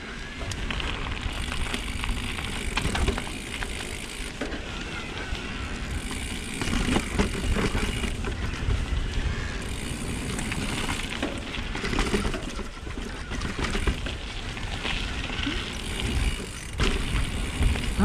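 Scott Patron 920 electric mountain bike in eMTB mode rolling over rock features on a trail, a steady close rumble of tyres and rattling parts with scattered knocks and bumps throughout.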